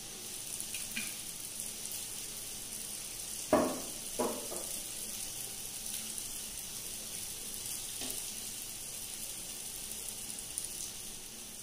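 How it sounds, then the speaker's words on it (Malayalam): Coconut oil heats in a frying pan with a steady, soft sizzling hiss, heard up close. A couple of light clunks from the pan break the hiss partway through, and no one speaks. "ഇത്തിരി വെളിച്ചെണ്ണ ഒഴിച്ചു കേട്ടോ."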